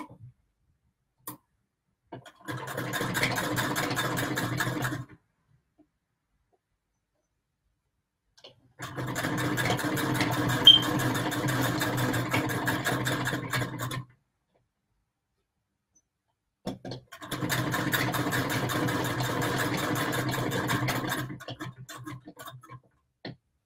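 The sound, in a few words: sewing machine stitching patchwork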